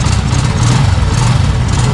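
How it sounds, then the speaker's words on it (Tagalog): A 2024 Kawasaki Bajaj CT125 motorcycle engine idles right after starting, a loud, close, steady low chugging with an even rhythm and no voices over it. "Yan o, napakatahimik ng kanyang makina."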